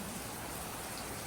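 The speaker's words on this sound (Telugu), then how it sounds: "రైన్ పడుతుంది" Rain falls outside as a faint, even, hissing patter with no breaks, and no voices are heard.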